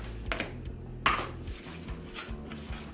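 Ingredients for Sierrabonz, including brown sugar, being stirred in a bowl, with a spoon clinking and scraping against the side in a few sharp, close knocks and a light ping.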